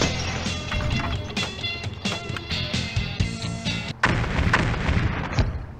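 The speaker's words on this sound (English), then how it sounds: "I love fireworks." Fireworks exploding in a pinball-style video game, a burst of sharp crackling bangs and thumps over busy game music, loud and dense, with no talking.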